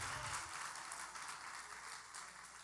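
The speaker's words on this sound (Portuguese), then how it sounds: "dá um aplauso ao Senhor bem forte" A church congregation applauds during a worship service: faint, even, steady clapping with no clear voice over it.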